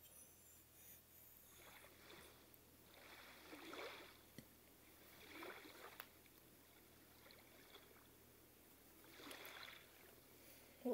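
Soft ocean water in the video game SlendyTubbies 3, faint washing swells rising and falling in slow, irregular surges with no voices over it.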